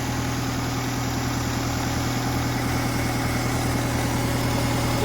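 A Honda car engine idling just after starting, a loud steady rumble with even low vibration and no talk over it.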